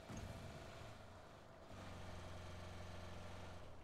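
Steady car engine in a video game, a low, even idle-like hum throughout, slightly softer in the middle before picking back up.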